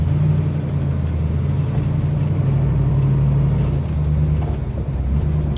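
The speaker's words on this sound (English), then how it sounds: "Ooh, she does peg leg burnouts." A 1969 Camaro Yenko recreation with an open differential holds a loud, sustained low engine roar through a peg leg burnout, close and steady, with no voices.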